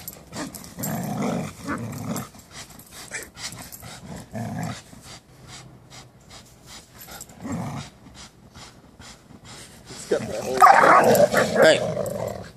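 Several dogs growl and snarl while tugging at a rope in a game of tug-of-war, with rough bursts of growling, a quieter stretch in the middle, and a louder, more intense flurry near the end.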